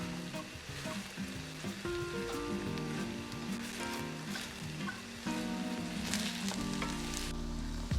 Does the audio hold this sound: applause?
no